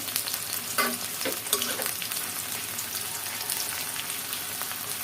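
Prawns frying in a pan for a pumpkin-leaf dish, a steady close hiss of sizzling oil with a few brief scraping stirs near the start.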